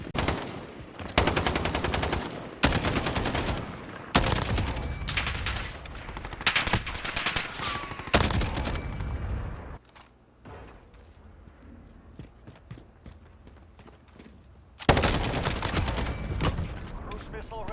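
FN Scar-17 rifle fire in a shooter video game, loud bursts of rapid automatic shots in several clusters, a quieter stretch with faint background game sounds midway, then another heavy burst near the end.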